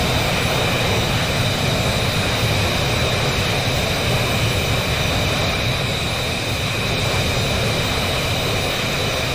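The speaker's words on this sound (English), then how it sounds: "Watch that plane take off." A jet plane taking off in the VR flight game VTOL VR, a constant loud broadband engine roar that holds steady throughout with no voices.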